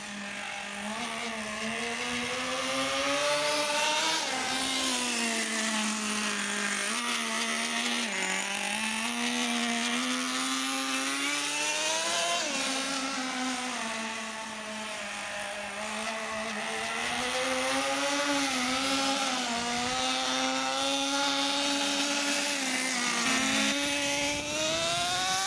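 A Traxxas T-Maxx RC truck's small nitro engine screams steadily at high pitch, its tone rising and dropping as the throttle is worked and the gears shift, loud and continuous throughout.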